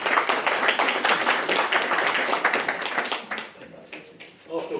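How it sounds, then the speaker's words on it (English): Applause from an audience at a Bradford CAMRA presentation, with dense clapping for about three seconds before it thins into scattered claps and fades under a voice starting to talk. "please don't continue to applaud"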